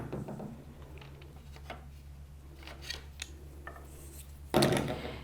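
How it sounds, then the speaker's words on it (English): Clamps on a loom are released during warping, giving a few small clicks and mechanical rattles over a low steady hum, then one louder clunk near the end. "release my clamps."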